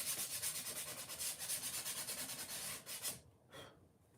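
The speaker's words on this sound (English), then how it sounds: "And then I'm going to take a coarse sandpaper." Coarse sandpaper rubbed along wooden edges in quick, steady back-and-forth strokes, close and rasping, before stopping and leaving a brief quieter rustle.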